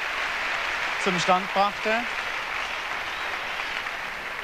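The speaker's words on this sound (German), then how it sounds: "Viel Beifall" A crowd applauds steadily at a 1990 German championship gymnastics balance beam event, a constant patter of clapping under someone commentator's speech.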